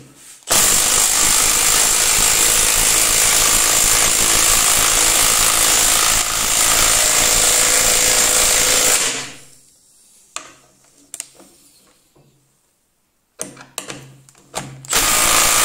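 A Milwaukee M18 FIW2F12 cordless impact wrench in its third mode runs loud and continuous for about nine seconds, hammering rapidly as it drives a 10x80 mm screw, then stops, followed by a few short bursts and clicks with quiet gaps between them.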